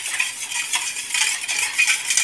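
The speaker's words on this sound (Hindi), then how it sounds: "और इसे अच्छे से मिला लेंगे।" A spoon stirs sugar into warm milk in a bowl, a close, steady scraping swish repeating in quick strokes, with no talking.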